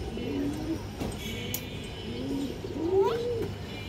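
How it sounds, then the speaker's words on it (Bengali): A silver-marked pigeon being sold at a pigeon market gives soft, low coos that rise and fall, ending in a brief louder warble, over steady background noise. "একটা সিলভার কাজ করানোর কবুতর আছে"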